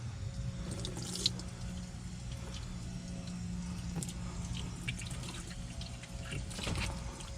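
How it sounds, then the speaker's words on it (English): Water rinses dirt and mud off a Jeep Wrangler JKU Armorlite floor mat, a steady close spray and trickle with brief splashes over a low background hum. "As you can see, we're getting the bulk of the dirt and mud washed out"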